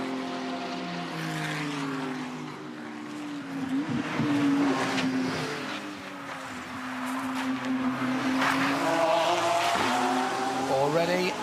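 GT race cars roar past at the Bathurst 12 Hour endurance race, engines rising and falling in pitch as several cars pass in close succession, loud and continuous, with commentary over the top.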